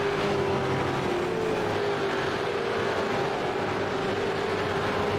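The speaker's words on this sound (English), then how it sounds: "Listen to these cars scream through under the Panasonic sign here." V8 Supercars racing at Suzuka in the iRacing simulator roar past as a steady, dense, loud engine wash with a sustained whining tone that slowly falls in pitch, with no talking.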